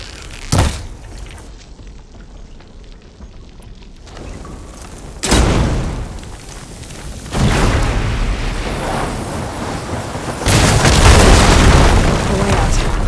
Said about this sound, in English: Hitting those blaze barrels with fire ammo should do the trick.